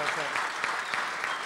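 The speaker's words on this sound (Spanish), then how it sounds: "recibe el aplauso del auditorio" A convention-hall audience gives a steady round of applause for a guest speaker at a congress, dense and even in texture, heard at a moderate distance.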